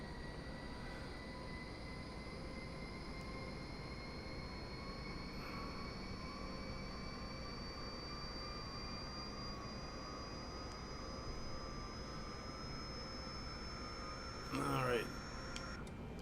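In a flight simulator game, an airliner's number three engine spools up during start as a faint, steady jet whine with a slowly rising tone over a low rumble, and a brief voice is heard near the end.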